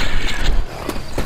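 Weapon reloading in the video game Left 4 Dead 2: a quick run of mechanical clicks and ratcheting clacks over a dense game-noise bed, with two sharper metallic snaps near the end.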